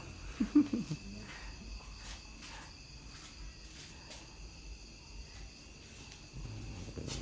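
Crickets chirp steadily in a cricket-rearing pond, a faint high continuous trill running throughout with no voices.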